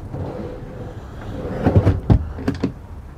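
A caravan drawer slides and knocks shut, several quick thuds and rattles close by, following a stretch of low background noise.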